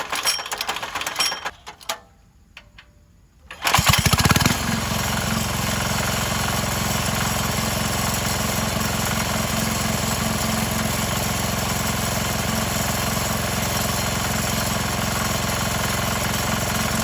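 A small 196cc diesel engine running on used engine oil sputters and catches after a few seconds, then settles into a loud, steady chugging idle that runs on without a break.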